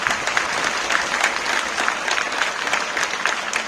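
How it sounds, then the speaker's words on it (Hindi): Schoolchildren at an Independence Day celebration at a senior secondary school clap loudly together, a dense, continuous burst of close applause lasting several seconds. "सभी बच्चे जोरदार तालियां बजाएंगे बेटा"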